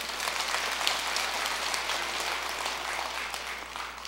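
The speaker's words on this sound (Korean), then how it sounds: "우리 애기에게 박수 한번 줘요." An audience at a Buddhist temple dharma talk claps for a six-year-old child, a steady, dense roll of applause from many hands that holds evenly for several seconds.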